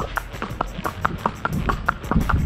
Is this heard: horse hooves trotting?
yes